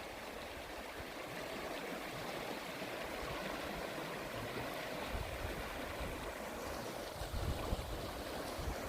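Flowing water rushes steadily in a broad, quiet wash, like a stream heard from nearby, with no voices.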